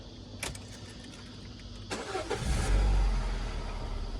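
A 2006 Citroen C4 car engine cranks and catches after a couple of light clicks, settling into a low, steady idle rumble close by, with no talk.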